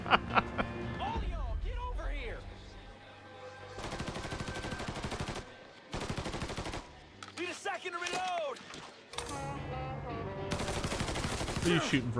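Sustained bursts of gunfire in the Mafia game, long stretches of rapid, loud shots broken by gaps, with voices talking between and over the shooting.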